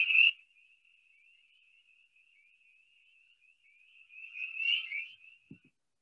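A frog calling in spring at a freshwater pond gives a long, continuous high trill, faint and steady, swelling louder near the end before a soft knock and silence.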